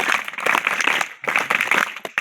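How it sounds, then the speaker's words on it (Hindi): An audience claps together in a dense, steady burst of applause that briefly dips before swelling again. "तो करतल ध्वनि से इनके लिए आप तालियां बजाएं।"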